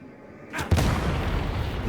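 Impact grenade explodes in Warhammer 40,000: Darktide, a sudden close heavy boom after a short quiet lead-in, followed by a sustained loud rumbling roar of debris and noise.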